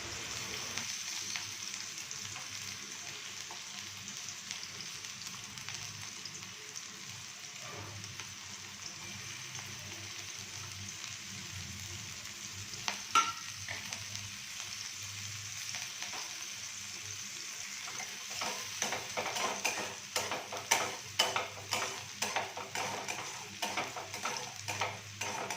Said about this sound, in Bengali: হাই ফ্লেমে একটু ভালো করে এগুলো ভেজে নেব